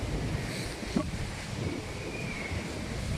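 Strong typhoon wind roars and buffets against the microphone during a storm in Parañaque, a loud, constant rush with gusty swells and no talk.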